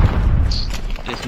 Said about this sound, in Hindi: ये स्नाइपर है दोस्तों